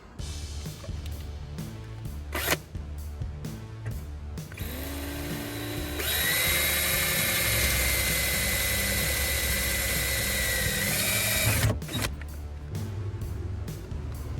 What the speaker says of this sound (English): take a small drill bit, a little bit smaller than the size of the screws there, run those up in there